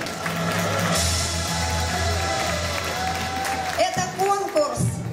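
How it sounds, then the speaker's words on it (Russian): Audience applause and cheering fill a dance and style contest opening show, a dense sustained clatter of clapping over a low hum, thinning toward the end as scattered claps and voices poke through. "Аплодисменты!"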